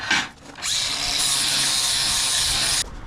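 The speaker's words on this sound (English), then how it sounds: "we're going to keep sanding this down" Power sander working on a metal mount for a mobile mechanic's service truck, a loud steady whirring grind running for a couple of seconds before cutting off, with a brief clatter at the start.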